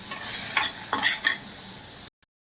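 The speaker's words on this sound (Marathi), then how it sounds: "ह्याच्यामध्ये टाकले मी कॉर्न, मिरची, कांदा, टोमॅटो. हे चांगलं परतून घेणार." Corn, chili, onion and tomato sautéing in a pan, a close sizzle broken by several scraping stirs of a spoon before the sound cuts off abruptly.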